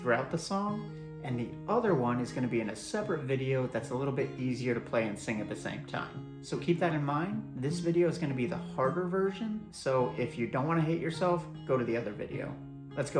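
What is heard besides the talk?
No distinct noise like a dog, phone or traffic.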